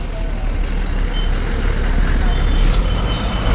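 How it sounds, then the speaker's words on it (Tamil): Heavy road traffic in Hoskote, a dense, loud, continuous roar of trucks and buses rolling close by with a faint hiss of air brakes over the steady rumble. "ஃபுல்லாக டிராஃபிக்காகவே இருக்குது ஹொஸ்கோட்டாவில்"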